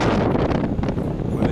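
Gusty wind buffets the microphone outdoors at Gibraltar, a steady low rumble with rough, fluttering bursts throughout.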